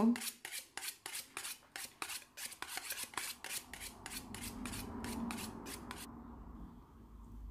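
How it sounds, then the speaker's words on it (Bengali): Coriander, green chillies and a large onion being chopped finely, with a fast, even run of close, crisp knife strikes on a board that stop after about six seconds, followed by a softer rustle. "কিছু ধনেপাতা, কিছু কাঁচা লঙ্কা, পেঁয়াজ একটা বড় সাইজের, সব কিছুকে আমি কুচি করে নেব।"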